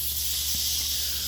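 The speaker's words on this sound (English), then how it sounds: "Now let's put that in the butter. Let's let that sizzle up and get nice and caramelized" A steady bright hiss of onions frying in butter in a hot pan, close and continuous, with a faint low hum underneath.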